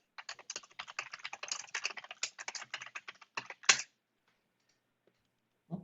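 Fast, close clicking of keys on a computer keyboard, a dense run of typing that stops abruptly, followed by near silence and a faint sound at the end.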